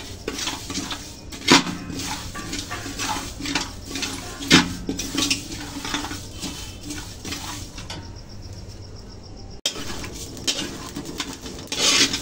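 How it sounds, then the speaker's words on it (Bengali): Cumin and panch phoron spices being dry-roasted in an empty pan, with repeated scraping and rubbing strokes of a spatula against the metal, some harder knocks, and a brief quieter pause before the stirring resumes. "দেখো এখানে আছে জিরে আর 5 ফোড়ন। এটা শুকনো খোলায় এখন ভেজে নেবো আগে।"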